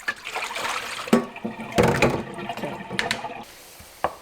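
Rice flakes are rinsed in water in a basket, making close sloshing, swishing and trickling sounds with a few sharper splashes and knocks.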